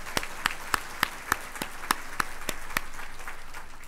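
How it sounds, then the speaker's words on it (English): Applause at a school district State of the Schools event: a string of sharp, distinct claps in an even, quick rhythm, fairly faint against quiet room noise, with no one speaking. "A round of applause, please."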